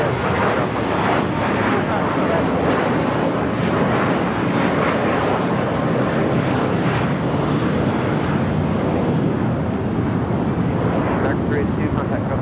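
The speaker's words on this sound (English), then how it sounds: "Singapore, the 777 now pushing back" A Singapore Airlines Boeing 777 pushing back at LAX, its engines giving a steady broad roar that holds loud and unbroken, with wind buffeting the microphone throughout.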